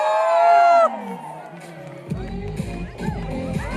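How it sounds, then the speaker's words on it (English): A festival crowd at a Naga king chilli ghost pepper eating competition at Hornbill Festival 2019 whoops with loud high shouts, then settles into busy cheering and clapping with voices mixed throughout. "Come on, a big round of applause."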